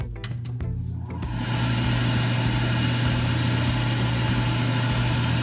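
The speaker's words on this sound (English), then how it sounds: "I'm going to turn the exhaust now" A kitchen exhaust fan switches on beside a stove, rising after a second into a loud, steady motor hum and airy drone that holds unchanged to the end.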